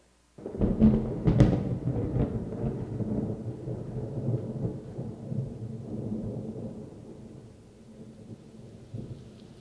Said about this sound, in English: thunder rolling in the distance.